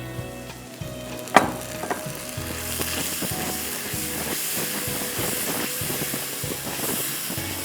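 Onions frying with tandoori masala, chilli powder, salt and a splash of water, a steady loud sizzle and hiss from the pan with a sharp clatter early on and small stirring knocks through the rest.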